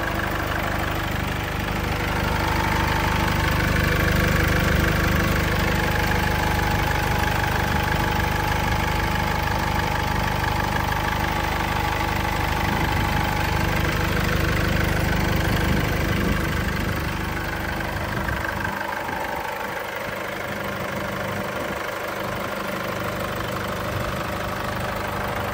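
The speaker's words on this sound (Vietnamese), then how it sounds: "và đây là cái tiếng động cơ đang hoạt động nhá, máy chạy rất là êm đấy" A 2017 Isuzu D-Max with a manual gearbox, four-wheel drive and a diesel engine idles steadily up close, a smooth continuous low rumble with a faint rhythmic diesel clatter that eases slightly toward the end.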